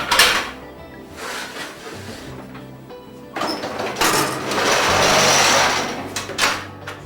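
Baguettes are loaded into a bakery oven with bursts of metallic clatter and scraping, then a longer sliding rumble as the trays go in, loud and close with no talking.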